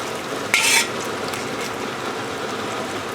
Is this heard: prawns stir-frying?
yes